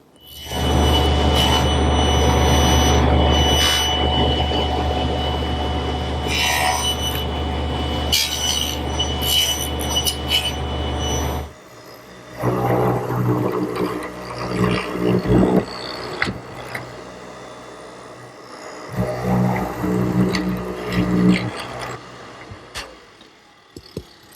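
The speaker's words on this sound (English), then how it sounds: "Now what I want to do is make a small tenon on each end to receive the top members of the rack." A power saw cuts small tenons on each end of a wooden cross piece for a quilt rack, a loud steady whine for about eleven seconds before it stops, then lighter knocks and handling noises.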